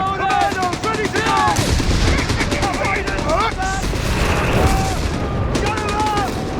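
Machine guns and rifles rattle in a Company of Heroes 3 4v4 battle, a dense, continuous barrage of close, loud bursts, with shouted soldier voice lines over the firing.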